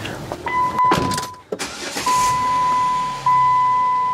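A car idles and then revs gently while one wheel is jacked off the ground and the brake is held. A low engine rumble rises in short pushes, a steady electronic tone sounds over it, and someone talks briefly.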